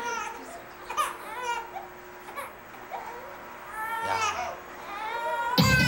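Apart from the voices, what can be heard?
baby crying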